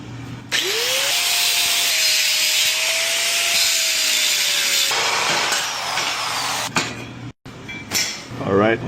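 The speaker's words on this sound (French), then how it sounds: "Après, on va couper notre subframe juste ici." A power saw cuts through a BMW E46 subframe with a loud, steady whine that shifts pitch as the blade bites, then stops abruptly before a few rattling, scraping sounds close up.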